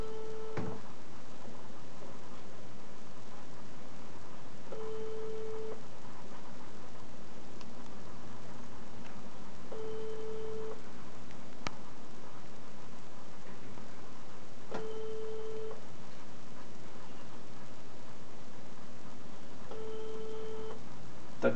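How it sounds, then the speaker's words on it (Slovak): Unanswered telephone ringback tone during a prize-draw call, repeating as a short steady tone about every five seconds, moderately loud over a faint background hum with no talk. "pani Bunová nám nezdvíha telefón"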